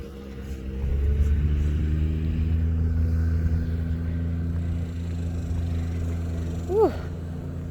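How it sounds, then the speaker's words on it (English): A small all-terrain golf cart driving on a hot day, a steady low motor rumble passing close by for several seconds, with a brief higher whine near the end. "This guy's got a little all-terrain golf cart."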